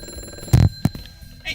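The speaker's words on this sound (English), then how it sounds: "The phone's ringing again." A telephone rings on a live call-in show, two short bursts close and clear in a quiet room, with no talk over it.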